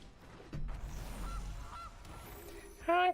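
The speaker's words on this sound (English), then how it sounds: "Honk, honk. I love the new animation for the goose." Cartoon goose honking animation in the MTG Arena card game, a couple of short honks over faint game ambience, ending in a louder honk near the close.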